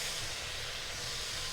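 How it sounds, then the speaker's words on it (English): Onion and garlic sautéing in a pan, a steady broadband hissing sizzle, close and continuous with no pauses. "first thing to do is to saute the onion and garlic"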